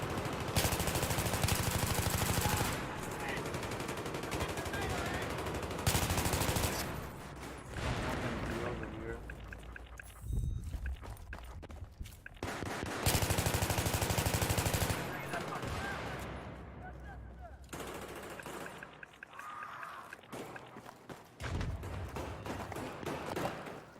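Sustained bursts of machine gun fire in the Battlefield 3 video game, loud, dense and rapid, broken by brief pauses, with voices and other battle noise mixed in.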